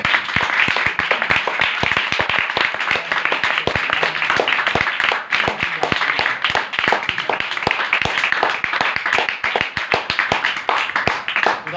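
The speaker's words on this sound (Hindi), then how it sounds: "एक बार जोरदार तालियां" Church congregation giving loud applause at a Christian worship gathering, vigorous close clapping with distinct sharp individual claps in a fast, uneven rhythm that continues strongly for nearly twelve seconds.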